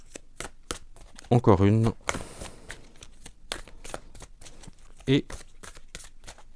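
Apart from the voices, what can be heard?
tarot cards being handled and shuffled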